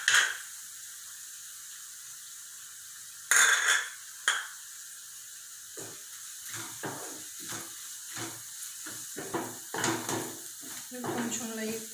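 Chili powder frying in oil with curry leaves for Hyderabadi egg curry, a soft hiss broken by bursts of sizzling and spoon scrapes in the pan.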